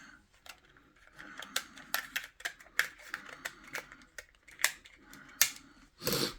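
Scissors snip through cable ties while unpacking HDMI cables for a laptop screen extender, giving a run of sharp, close clicks and cuts in quick irregular succession, ending in a louder rustle.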